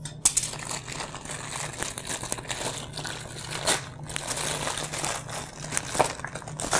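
Crinkly plastic crackling and rustling up close, a steady run of small crunches and snaps as the plastic packaging of a zipper bottle is worked open, with no talking.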